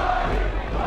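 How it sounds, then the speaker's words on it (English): Wrestling fans at a Superkick'd show chant together, a dense, steady roar of massed voices that fills the whole brief moment without a break. "Crowd chanting money."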